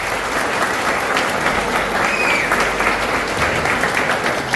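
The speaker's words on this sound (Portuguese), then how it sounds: "Un aplauso para ustedes." University students at a training session applaud loudly and steadily. Their close, dense clapping fills the room for several seconds without a break.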